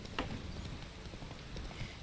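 Horse hooves clip-clopping in The Witcher 3: Wild Hunt, a steady patter of hoof strikes at a moderate, even pace over low ambient game noise, with no talking.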